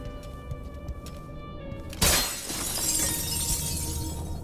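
Glass shatters in Dishonored 2 during a mission at the Royal Conservatory: a sudden bright crash after a quiet stretch of game ambience, followed by a lingering tinkling spray of shards.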